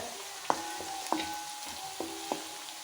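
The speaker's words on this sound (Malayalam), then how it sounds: "വറ്റൽമുളക് നന്നായിട്ട് മൂപ്പിച്ചെടുക്കാം നമുക്ക് ഇഞ്ചിയും വെളുത്തുള്ളിയാട്ടോ ഇട്ടത്" Dried red chillies frying in a pan with ginger and garlic for a Kerala beef fry, a soft steady sizzle broken by a few clinks of a stirring spoon against the pan.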